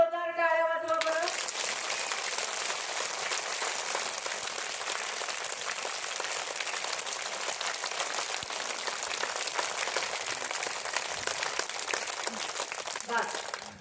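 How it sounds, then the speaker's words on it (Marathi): Audience at a Marathi public gathering clapping loudly and continuously after a speaker's request, a dense close burst of applause lasting over ten seconds, with the speaker's voice briefly at the start. "मग सगळ्यांनी हात वर करून एकदा जोरदार टाळ्या वाजवा बरं"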